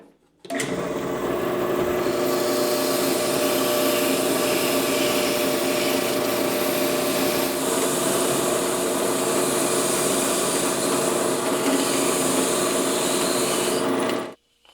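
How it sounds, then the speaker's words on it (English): A drill press spinning a rotating abrasive wire brush against a skull-shaped wooden box: a steady whirring hum with a rough grinding, brushing texture, continuous for about fourteen seconds, loud and close, then cuts off. "these rotating abrasive wire brushes. I've got one already mounted in the drill press"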